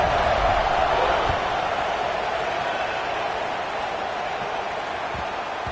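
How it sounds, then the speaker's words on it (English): A football stadium crowd buzzes after a score that closes the game to 31-28 against Tennessee, a broad continuous roar of many voices that swells at first and then eases slightly. "this crowd is buzzing after that last score."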